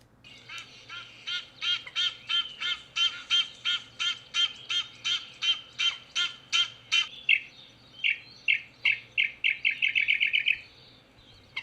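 Egyptian geese calling in a long run of loud, rhythmic honking squawks, about two per second, quickening into faster clipped notes near the end before stopping; no voices.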